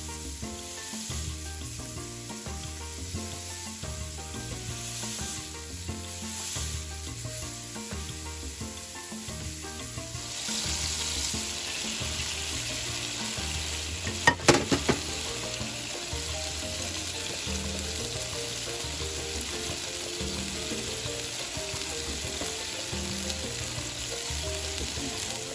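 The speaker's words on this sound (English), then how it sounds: "I'm just going to use my non-stick pan to fry these, so it's a little healthier." Cuban fritas frying in a non-stick pan, a steady, close sizzle running throughout with a brief cluster of sharper clicks and knocks midway, no voices.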